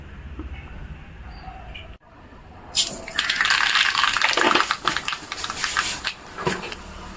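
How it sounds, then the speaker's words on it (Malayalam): Cooking oil pours into a pan to temper mustard seeds for a Kerala-style sambar, a steady liquid gush that begins after a brief quiet moment and carries on close and fairly loud. "ഇനി കടുക് താളിക്കാൻ വേണ്ടിയിട്ട് എണ്ണ ഒഴിച്ചു കൊടുക്കാം."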